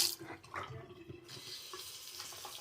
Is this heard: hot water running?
yes